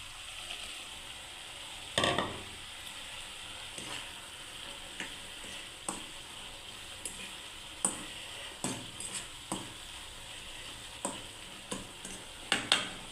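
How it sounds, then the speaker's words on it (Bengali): Eggplant frying in hot oil gives a continuous sizzle, broken by sharp clicks and scrapes of stirring in the pan. "এবার আমি বন্ধুরা বেগুনগুলোকে দিয়ে দিচ্ছি ভাজা।"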